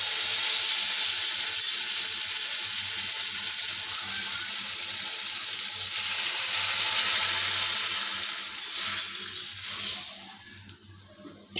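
Masoor lentils hit a tempering of fried onion and garlic with a loud, steady hissing sizzle that holds for several seconds, then fades and breaks into softer bubbling near the end.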